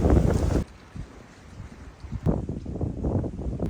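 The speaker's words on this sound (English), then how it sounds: "It's 5:15 and still windy, really windy." Strong, relentless wind gusting at a lake reservoir during a canoe camping trip in Vermont, roaring loudly against the microphone, briefly dropping to a lull, then surging back in heavy buffeting bursts.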